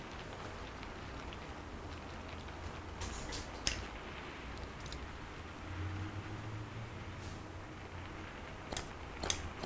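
Thin thinning scissors snip through hair during a haircut, giving a few crisp, scattered clicks over a steady quiet background hiss.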